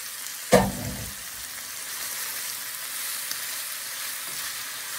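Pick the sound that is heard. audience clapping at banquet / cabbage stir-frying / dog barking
cabbage stir-frying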